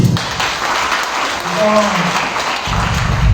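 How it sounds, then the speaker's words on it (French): Crowd applause at a political rally fills the clip with a continuous, dense clatter of clapping at moderate loudness, with a voice speaking briefly over it in the middle. "Il faut les applaudir."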